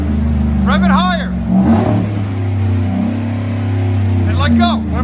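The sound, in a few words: Chevy Avalanche 5.3L V8 engine revving, CARVEN Type R exhaust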